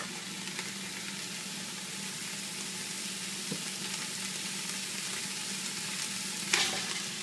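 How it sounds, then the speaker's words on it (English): Onions and mushrooms fry in a pan with a steady, close sizzle that holds evenly throughout, with a brief clatter near the middle and a sharper stir or scrape near the end. "Now we're going to do our onions and mushrooms. We're just going to put them straight in, and we're going to cook until they're nice and soft and translucent."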